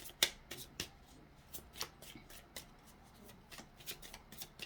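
Tarot cards being shuffled and handled up close, with a run of soft riffling flicks and a few sharper snaps spread irregularly across the stretch, quiet overall and with no voice over them.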